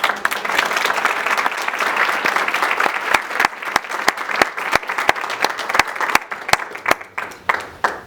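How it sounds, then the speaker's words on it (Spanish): An audience at an education panel applauds, with sustained, dense clapping that has distinct sharp claps and fades toward the end. "Damos un aplauso."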